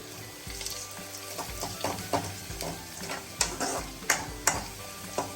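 Onions frying and browning in a pan for a squid roast, with steady sizzle under repeated scraping and stirring strokes, a few sharper clinks of the utensil against the pan, close and moderately loud.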